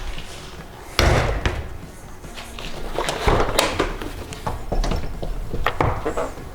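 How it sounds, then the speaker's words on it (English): Back doors of a shop truck swinging open and banging shut, a sharp slam near the start followed by metallic clunks, latch clicks and a few more knocks at close range. "these back doors open like all the way out"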